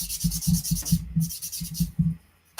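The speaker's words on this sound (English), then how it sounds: "There's quite a bit of sanding for each one of these just to get rid of that line" Rapid back-and-forth rasping strokes of sanding plastic model kit parts, about a dozen in quick rhythm, with a short pause midway, close and fairly loud.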